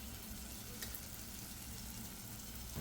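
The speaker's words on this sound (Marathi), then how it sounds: "मसाल्यालाही 1 ते 2 मिनिटं व्यवस्थित परतून घ्यायचे आहे टोमॅटो शिजेपर्यंत" Ground spices, turmeric, coriander powder and Kashmiri red chilli, sizzle faintly with tomatoes in a pan for shev bhaji, a soft, steady frying hiss with no talk.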